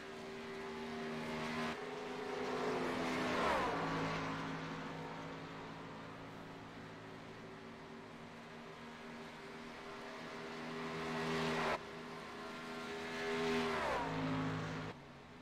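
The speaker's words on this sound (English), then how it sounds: "Here comes the 8 truck of Dustin Phillips out onto the track to start his qualifying laps" A race truck engine drones around a track during qualifying laps, rising and falling with Doppler-like sweeps as it passes at a distance, faint and continuous with no talk over it.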